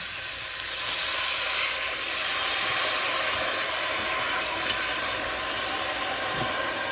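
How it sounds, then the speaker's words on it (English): Soy sauce and rice wine hit a hot pot for Taiwanese beef noodle soup, giving a steady, close hiss of sizzling steam that holds evenly with no talking. "now I'm going to add the soy sauce and rice wine"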